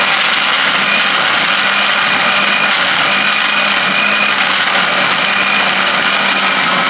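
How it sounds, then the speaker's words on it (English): An electric blender on its lowest speed chops ice for a frappe, producing a steady, loud, close grinding whir that holds without pause. "those pieces of ice being chopped up, and when the sound changes, you can tell that then the blender is doing its job."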